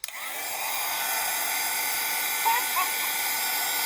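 A hair dryer runs steadily and close, blowing to dry paint on small wooden Easter shapes, a continuous whooshing roar after a brief click at the start, with faint voices under it.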